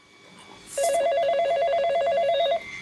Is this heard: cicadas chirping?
no